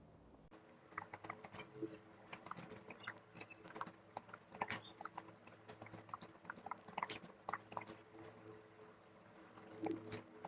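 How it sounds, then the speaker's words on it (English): Keys click on a computer keyboard in irregular, fairly quiet taps of varying pace, heard close against a faint background hum with no talking. "If I type here, you can see the keys are getting highlighted."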